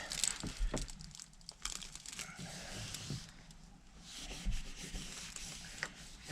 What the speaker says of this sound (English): Give it a really good rub.